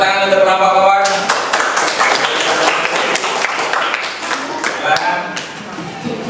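Dense applause from a classroom audience for a student presentation group, steady and close, lasting several seconds, with no voices over it.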